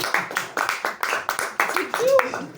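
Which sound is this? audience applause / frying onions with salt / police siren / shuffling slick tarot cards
audience applause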